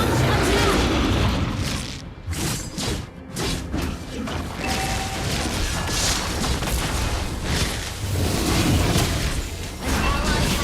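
Fire rain attack explosions in a mobile battle game, with heavy booms and crashing impacts layered over dense game effects and music, loud and continuous with a few brief dips, while a voice talks over it.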